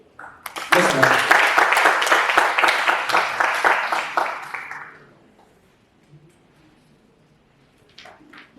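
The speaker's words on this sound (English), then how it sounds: "let's clap for her" Audience applause in a lecture hall at a public lecture on journalism, a dense burst of clapping lasting about four seconds before fading out, followed by near silence and a faint thump.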